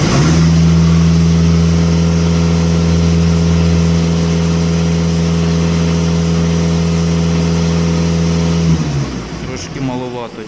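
A warmed-up Volkswagen Passat B8 diesel engine with fault code P20EE runs loud and steady with a deep, even hum, then winds down near the end.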